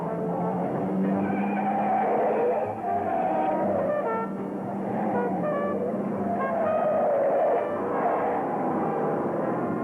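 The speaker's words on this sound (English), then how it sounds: "Any second now, the cars will hit the dirt section of the course" Hot rod race cars skid and slide through a dirt section of the course, engines roaring and tyres squealing in wavering, overlapping bursts, loud and continuous throughout.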